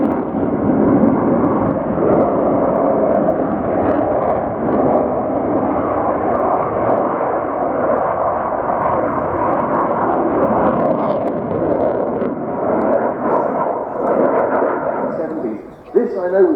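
Aircraft engines at the Royal International Air Tattoo 2022 airshow, with an aircraft being readied for takeoff, make a loud, steady roar that holds unbroken for the whole stretch and dips only briefly near the end.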